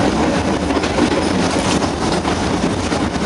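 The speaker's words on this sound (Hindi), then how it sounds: "देखिए टनल से हमारी ट्रेन पास हो रही है।" Ooty mountain train rumbling through a tunnel, a loud, steady roar of wheels and carriages with faint rhythmic clatter that continues unbroken and fills the whole stretch.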